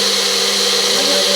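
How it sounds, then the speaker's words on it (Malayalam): A mixer grinder whirs steadily as it grinds sugar into a smooth paste, a loud, constant high-pitched motor drone with no pauses and no talking. "ഒരു പഞ്ചസാരയും പിന്നെ നല്ല പേസ്റ്റ് പരുവത്തിന് അരയ്ക്കണേ."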